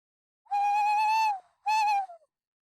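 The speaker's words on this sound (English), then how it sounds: "That owl's come a lot closer." An owl hoots close by at night near the Bristol Avon river, two clear tonal hoots, a long one then a shorter one, against near silence.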